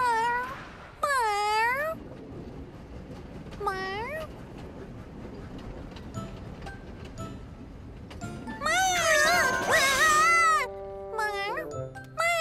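Cartoon cat meowing in several bursts, including rapid overlapping meows near the end, with bouncy pitch sweeps over a quiet background score.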